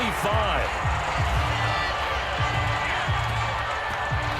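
Stadium crowd noise from the Madden 22 football video game, a sustained roar of spectators reacting to a penalty call, loud and continuous beneath an announcer's voice.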